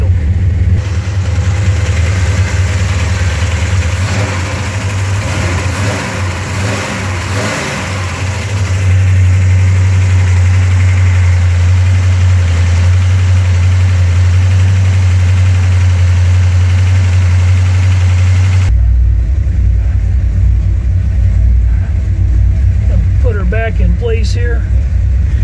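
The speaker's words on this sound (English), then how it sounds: "And we'll let it idle." A 1960 Brookwood station wagon engine idling steadily, a loud close low rumble running unbroken throughout, with a voice talking over it early on before the engine note shifts lower near the end.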